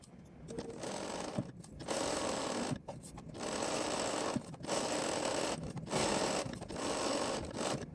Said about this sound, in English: Sew each dart starting at the outer edge.